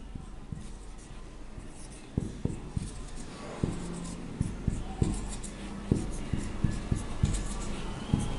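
Writing out multiplication table questions by hand, producing faint, scattered scratches and taps of the writing tool against a soft background hum.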